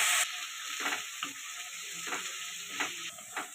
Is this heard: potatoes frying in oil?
yes